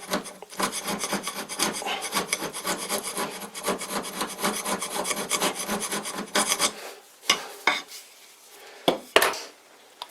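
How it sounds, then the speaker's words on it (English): A hand scraper works the metal top slide of an old lathe, flattening its surface: steady, fast, close rasping strokes in a continuous rhythm, then a few separate sharper scrapes with short pauses between them. "This here is the top slide of my old lathe, and I've been scraping the surface here, trying to get it a little flatter."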